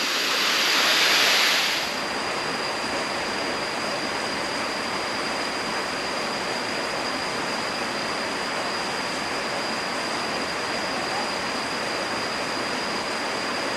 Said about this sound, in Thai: ถึงแล้วนะครับน้ำตกทานทิพย์นะครับ